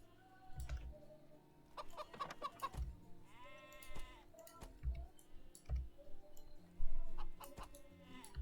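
Sheep bleat a few times among sharp clicks and soft thuds, with scattered clucking, in the video game Stonehearth.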